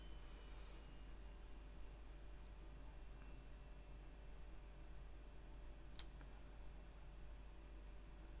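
A single computer mouse click saving a file, a sharp faint tick near the end amid quiet room hiss, with a few softer clicks earlier.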